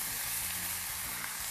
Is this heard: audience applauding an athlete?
no